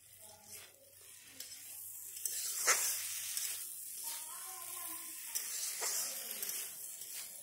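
Taro stolons and fish frying in oil in a covered pan give a faint, steady sizzle and hiss with scattered soft crackles throughout.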